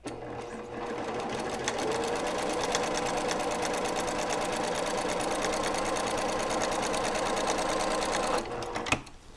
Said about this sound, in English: as I feed it through the machine. That will stitch the line 1/4 inch away.